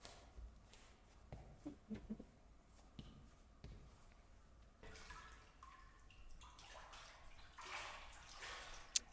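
Running and dripping water in the Backrooms video game, a steady wet wash with scattered splashes and drips, moderately loud and continuous, with no talking.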